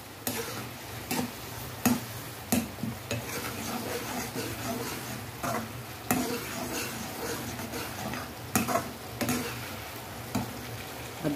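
Tomatoes with salt fry and sizzle in a pan for soya badi pulao, a steady close sizzle broken by repeated sharp clinks and scrapes of a spoon stirring against the pan.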